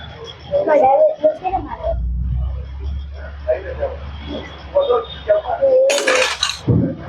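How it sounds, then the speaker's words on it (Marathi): Spoons and forks clatter as they are dropped during a Chinese party dinner at Dadar Chowpatty. People talk throughout, and a sharp burst of metal clatter rings out near the end. "चमचे काटे पाडायला सुरुवात"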